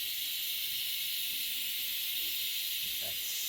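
A steady, loud hiss of steam pours from an Instant Pot as it depressurizes after cooking a Thanksgiving turkey, continuous and unbroken across the whole stretch with only faint low rumbles beneath.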